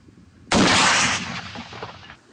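A mortar firing during military training, a single loud sharp blast with a rumbling tail lasting over a second, heard alone.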